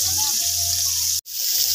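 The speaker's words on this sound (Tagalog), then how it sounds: "Lundan to gamay og tubig mga guys." Water pours steadily into a cooking pot while making pancit, a dense continuous rush that breaks off briefly near the end before resuming.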